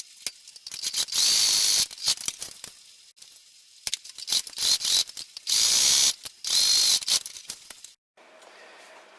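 A Singer Heavy Duty 4411 sewing machine hems the top edge of a fabric bag in repeated fast, mechanical runs of clattering stitches, with brief pauses between bursts and a quieter stretch at the end.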